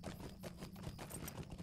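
Horse hooves clip-clop steadily in the Lord of the Rings Online video game while riding through the North Downs, a quiet rhythmic trot under faint ambient game sound.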